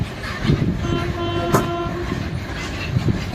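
Sealdah–Puri Duronto Express in motion, a steady rumble of wheels on track heard from inside a coach, with a brief horn toot cutting through at about the middle.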